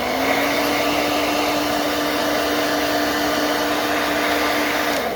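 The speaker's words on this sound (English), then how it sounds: "One tip, always keep the hairdryer moving, never let it sit." A hairdryer heat-sets paint on a fishing lure, blowing a loud, steady whirring hum with an airy rush that holds level throughout at close range, with no talking.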